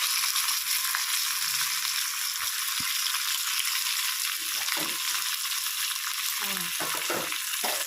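Chana dal, urad dal, garlic, cumin and mustard seeds fry in hot oil for Telugu majjiga charu. A steady bright sizzle runs close by throughout, with occasional stirring clinks and soft scrapes.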